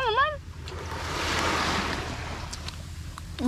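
Sea waves washing in at a beach, a broad rushing surge that swells and recedes, with wind noise on the microphone and brief whistling chirps at the start and end.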